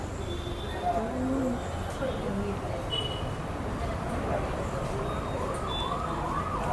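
An ambulance siren wails in the distance, its rising and falling tone sweeping repeatedly over steady street noise and murmuring voices.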